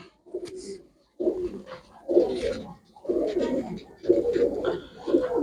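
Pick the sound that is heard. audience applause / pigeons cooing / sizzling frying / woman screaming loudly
pigeons cooing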